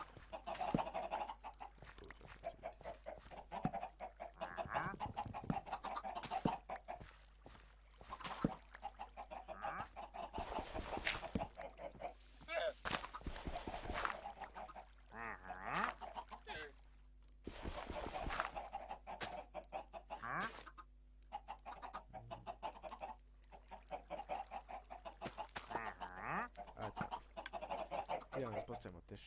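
Chickens in the Minecraft video game give repeated short clucks scattered through half a minute, heard under people talking casually throughout.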